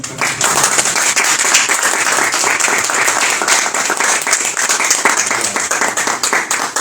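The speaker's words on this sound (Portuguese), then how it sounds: "vamos a receber a ele com um aplauso, que ele sim merece o aplauso" An audience at a literary café cultural-day event applauds a speaker, dense and loud steady clapping that carries on without a break for about seven seconds.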